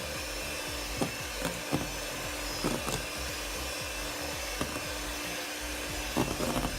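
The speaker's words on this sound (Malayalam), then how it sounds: "അത് ചേർത്തിട്ട് വീണ്ടും നന്നായി ബീറ്റ് ചെയ്യണം." An electric beater whirs continuously through cake batter after egg yolk is added, a steady motor drone punctuated by faint clicks and knocks against the bowl.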